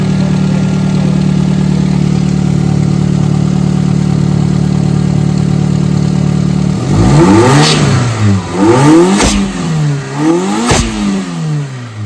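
A Daihatsu Mira engine idles steadily, then revs up sharply in several rising and falling bursts, close and loud, with a slightly high-pitched, funnel-shaped tone.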